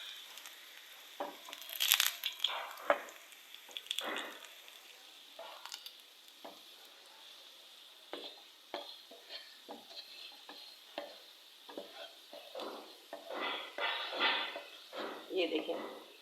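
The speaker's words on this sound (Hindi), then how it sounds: "अच्छी तरह से मैं इसमें लहसुन को फ्राई कर लूँगी।" Garlic frying in a pan with stirring and scraping bursts, a soft sizzle underneath, intermittent clatter from a spoon, moderately close and low in level.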